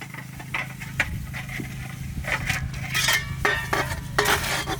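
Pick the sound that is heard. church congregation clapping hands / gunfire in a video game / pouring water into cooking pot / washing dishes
washing dishes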